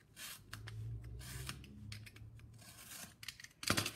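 Scissors snip through paper for puppet making in short, close cuts and light rustles, irregular and quiet, ending with a sharper crinkle of paper.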